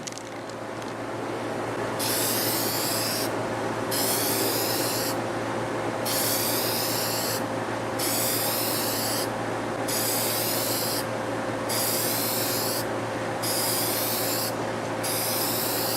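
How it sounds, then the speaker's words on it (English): Brown paint sprays outdoors from a spray can onto a Zenith Porthole G2952 radio, a series of hissing bursts of about a second each with short pauses between, steady and close. "I'm going to spray on this side so the mist goes that way"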